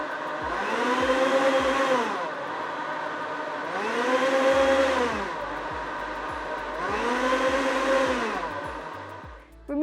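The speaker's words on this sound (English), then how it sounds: "Press the start button and then press the pulse button for 2 seconds at a time." A Smeg BLF01 jug blender runs on its pulse setting in three loud, close bursts of about two seconds each, the motor whine rising and falling with each press, with faint clicks between.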